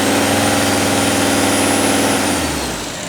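An old diesel engine runs smoothly and fairly quietly after a combustion cleanse, with a steady, even idle that eases slightly lower toward the end, heard close up with no talking.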